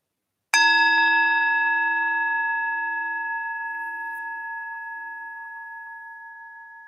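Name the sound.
meditation bell ringing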